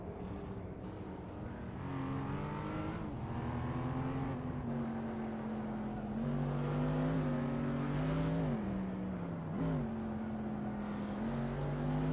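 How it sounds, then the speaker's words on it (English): Cars race in a racing simulator video game, engine tones droning steadily with rising and falling pitch as they rev and shift, one continuous layered whine without pauses. "We're currently watching a thrilling race in the racing simulator"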